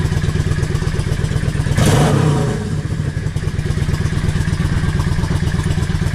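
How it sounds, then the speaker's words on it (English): A Yamaha XVS650 V-twin with newly fitted Mikuni 22.5 pilot jets runs loud and close, its steady throbbing idle broken by a brief throttle blip that swells and settles back into a smooth, even beat. "the bike doesn't sound like it's struggling"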